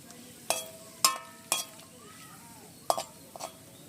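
Cashews stirred in cooling oil in a pan, with sharp clinks of a spoon against the metal at irregular intervals over a faint sizzle.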